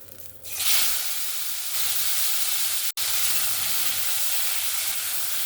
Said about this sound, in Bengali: তেলটা এখানে আমার ভালোভাবে গরম হয়ে গেছে এবার আমি চিংড়ি মাছগুলো ভেজে নেব